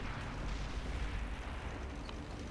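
Tank gun firing in the World of Tanks video game, a loud booming blast and rumbling roar filling the short stretch, with no talking.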